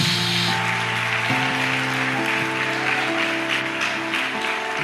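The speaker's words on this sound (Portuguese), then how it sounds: "Aleluia, aplauda Jesus." A church congregation applauds in a steady, dense patter of many hands, loud and continuous with a faint tonal hum underneath.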